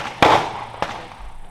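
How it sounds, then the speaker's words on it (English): Sharp cracks from a .308 Win rifle firing 150 gr Barnes TSX BT bullets over Hodgdon Varget powder, three distinct reports, the first loudest, each with a short decaying tail. "Daniel, do you want to shoot this last shot?"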